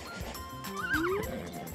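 A horse in the video game Miitopia lets out a short rising-and-falling whinny over soft game music, with light hoof clip-clop underneath, quiet and brief.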